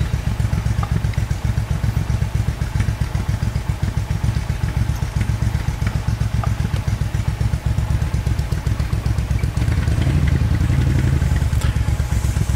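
A 2001 Suzuki Intruder VS1400 cruiser motorcycle, 1396 cc, idling close by with a steady loping pulse and slight mechanical clatter, continuous and alone.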